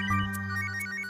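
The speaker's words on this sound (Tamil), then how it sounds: "ம் சரவண சரவண எதுக்கு இப்போ ஃபோன் பண்ணுறான்?" An incoming call sets a phone ringing with a steady electronic ringtone, repeating in short pulses, close and clear with no talking.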